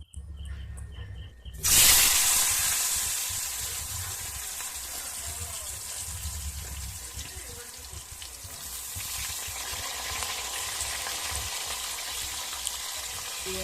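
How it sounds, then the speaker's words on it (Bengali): Cut potatoes drop into hot oil for a fish curry and set off a sudden loud sizzle. The sizzle eases into a steady, close frying hiss that lasts to the end. "সেই একই তেলের মধ্যে আমি আলুগুলো দিয়ে দেব।"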